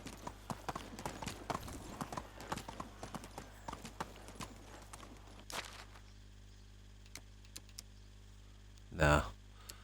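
Horse hooves clip-clopping at a steady riding pace in the video game Medieval Dynasty, a close rhythmic clatter for about six seconds that then stops, with someone talking over it.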